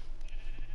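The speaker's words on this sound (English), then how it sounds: "I see another sheep" A sheep in a survival video game gives one short, nasal bleat, fairly close and clear, with no talk over it.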